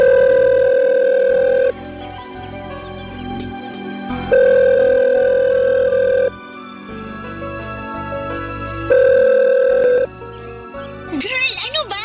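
A cellphone call tone sounds in repeating steady two-pitch bursts, each about two seconds long with pauses between, fairly loud and close, with faint background noise.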